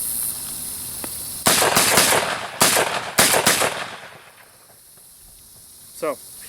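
Girsan MC312 12-gauge inertia shotgun firing light loads outdoors: about five or six sharp, fairly quick reports in an uneven string, followed by quiet.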